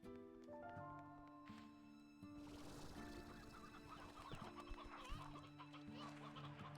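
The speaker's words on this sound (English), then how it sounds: "I'm gonna grab some chickens." Chickens cluck and squawk in Slime Rancher 2. Several calls layered over steady synthesized game music are heard, with a busier cluster of clucks toward the end and no speech.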